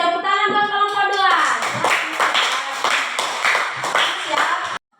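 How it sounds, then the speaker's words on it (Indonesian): Students in a classroom applaud a student group, a dense burst of clapping lasting several seconds before stopping abruptly, preceded by a brief voice. "Tepuk tangan buat kelompok 2."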